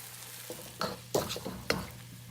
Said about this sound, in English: Add the meat back in and cook until most of the liquid is evaporated